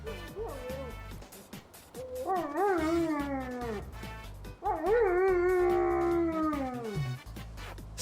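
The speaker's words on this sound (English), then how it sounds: "we need to look at this singing dog" A singing dog howls in long, rising and wavering tones, two sustained howls with a short break between them, loud and close, with no talk over them.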